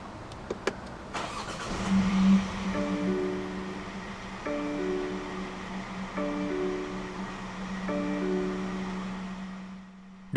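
A 2020 BMW X1 sDrive20i M Sport turns over with a brief starter whir, catches and settles into a steady idle, accompanied by repeating soft chimes, heard close from inside the cabin.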